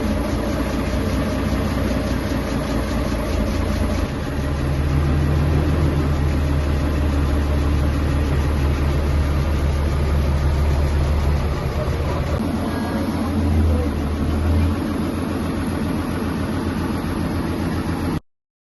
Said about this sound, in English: I take it this is the ferry, which will take me to the other side of the mainland.